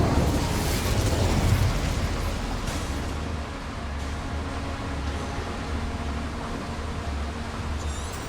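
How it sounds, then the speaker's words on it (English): An Incendio fire spell in Hogwarts Legacy bursts with a whooshing blast, then flames roar and crackle steadily as a broad, loud noise that eases slightly but keeps burning to the end. "Incendio should be enough to light these flames."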